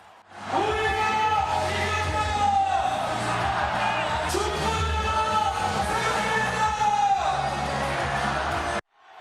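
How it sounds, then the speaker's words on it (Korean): A large crowd of citizens in Gwangju roars and cheers continuously, loud and sustained, with whoops and shouts rising in waves before cutting off abruptly. "시민들은 자리를 박차고 일어나 함성을 질렀습니다."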